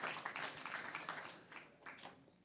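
Audience applause after a startup pitch at a pitch event, faint and distant clapping that fades over a couple of seconds.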